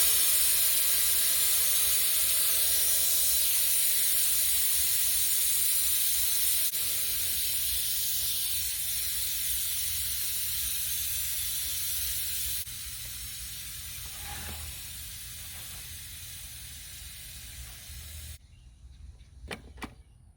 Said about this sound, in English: it's reached steam. I'm going to cancel and release.